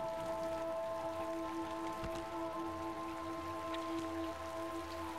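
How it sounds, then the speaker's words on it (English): Rain falls in the video game Typoman as a steady hiss of raindrops, continuous and even, with a sustained tonal hum and a single soft thump in the middle. "I'm planning on riding the rain. I'm gonna ride this thunderstorm."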